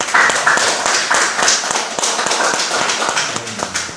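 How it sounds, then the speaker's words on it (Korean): A church congregation claps together in thanks during a worship service. The applause is a dense, lively patter of many hands, close and fairly loud for a few seconds. "하나님을 향해서 감사의 박수를 올려드리도록 합시다"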